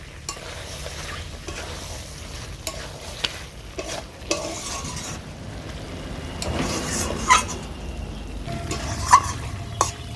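Chicken with cashews being gently stirred in a frying pan, a soft continuous sizzle with scattered scraping clicks of the spatula, close and steady with a few louder knocks.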